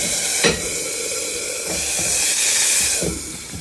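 Pork chops frying in olive oil, a continuous hiss and sizzle from the pan with a few soft clicks and shifts, close and steady with no talking.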